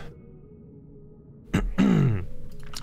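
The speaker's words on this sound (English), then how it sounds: "Sorry about all the coughing." A person coughs and clears their throat close up: a short rough burst, then a longer hoarse, voiced cough-grunt, over a quiet steady background hum.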